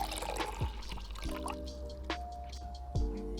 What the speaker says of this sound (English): And then I'm gonna take my espresso and slowly pour it in.